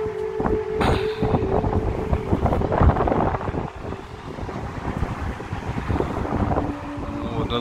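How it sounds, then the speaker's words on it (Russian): Strong wind gusting at the high wall of a fortress in Germany, a steady loud roar with buffeting rumble on the microphone throughout, rising and falling in waves with no speech. "О, какой ветер"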